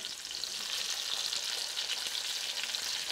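Breaded chicken cutlets for chicken parmesan frying in a pan, a dense continuous sizzle close by and steady throughout, with no voices.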